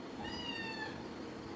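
A kitten meowing close by, one short, plaintive high-pitched cry over quiet background hiss.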